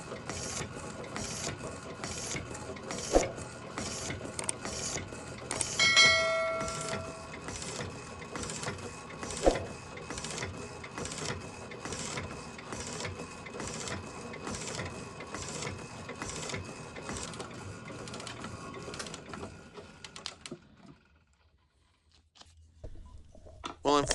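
A facing cut takes metal off the base of a micrometer stand with a freshly sharpened and honed tool, giving a steady rhythmic mechanical chatter close by that runs for about twenty seconds before stopping into near silence.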